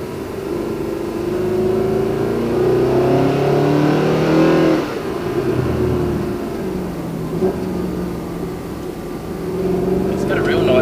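Supercar lapping a track, its engine droning loud and steady with a rising pitch, then easing off and building again as people talk over it.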